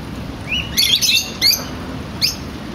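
Small birds chirp and tweet in short bursts of high calls over a steady outdoor background, somewhat near, with no talking.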